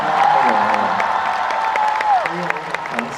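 A live concert crowd applauds and cheers, a wash of clapping under a sustained tone, with a voice talking over it.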